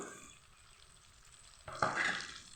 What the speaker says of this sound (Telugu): ఉల్లిపాయలు పచ్చిమిరపకాయలు ఇందులో యాడ్ చేసుకుంటాను